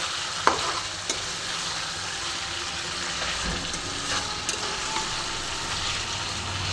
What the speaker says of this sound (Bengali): এবার আমি আস্তে আস্তে চিকেনটার সাথে মশলা দিয়ে কষে নেবো।